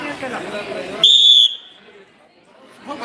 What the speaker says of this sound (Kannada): ಒಂದು ಸೀಟಿ ಆದ ತಕ್ಷಣ ಹೋಗಬೇಕು